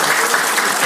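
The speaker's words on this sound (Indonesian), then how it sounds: "Tepuk tangan untuk kita" Brief burst of audience clapping at a health talk, dense and loud, lasting under a second.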